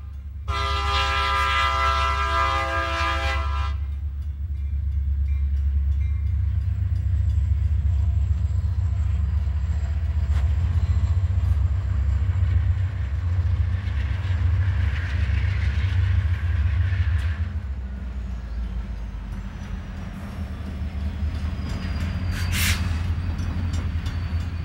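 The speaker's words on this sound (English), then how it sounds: "Another eastbound TOFC pulls out after a crew change." An eastbound freight train carrying trailers on flatcars pulls out of a yard after a crew change. It opens with a loud, sustained horn blast, and a heavy low rumble and rolling rattle of cars follow. A distant whistle sounds near the end.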